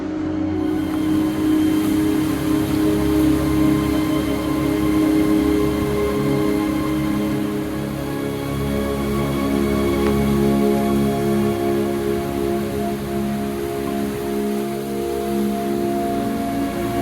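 Steady rain falls on a lakeside path beside the cliffs in Ohrid, a dense, even hiss that holds for the whole stretch with a faint low rumble underneath and no voices.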